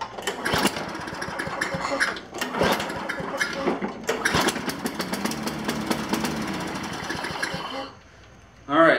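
A push mower engine, fitted with a re-threaded spark plug hole, fires up after priming and runs loud and close with a steady buzzing drone for about eight seconds before cutting off abruptly.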